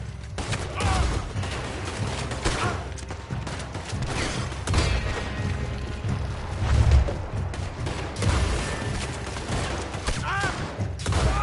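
Gunfire and a sustained firefight in Red Dead Redemption 2, dense and continuous throughout with shouting voices mixed in.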